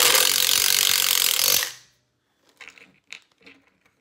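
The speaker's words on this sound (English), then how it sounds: "That's what makes the noise is that this is an impact hammer or impact drill" An impact drill drives a screw during a ceiling fan install, a loud, rattling, hammering burst for about a second and a half that stops abruptly, followed by faint scattered clicks and handling noises.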